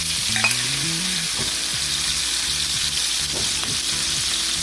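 Onions fry in a pan for Southern fried cabbage, giving a loud, continuous, even sizzle with soft scrapes of stirring underneath and no speech.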